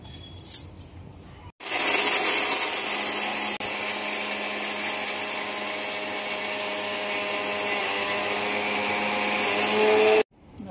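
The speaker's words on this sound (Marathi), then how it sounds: "हे मिक्सरमध्ये दळून घेतलेलं पीठ आहे बघा आताच." Mixer grinder grinding roasted bhajani flour for chakli, a loud, steady, high motor whine that starts abruptly, runs continuously for several seconds and then cuts off.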